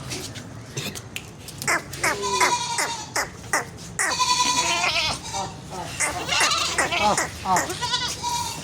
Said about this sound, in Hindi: एक ये बकरी आई है हमारे पास